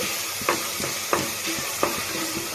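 Meat sizzles and fries in oil in a pan for a home-style Sunday meat dish, with a steady crackling hiss broken by a few distinct scraping stirs of a utensil at roughly even intervals.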